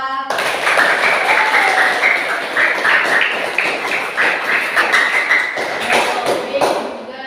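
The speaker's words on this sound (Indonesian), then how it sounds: "Tepuk tangan untuk kelompok A." A school class claps for a group of students who scored full marks, a dense steady patter of hand claps filling the room for about seven seconds with some voices mixed in.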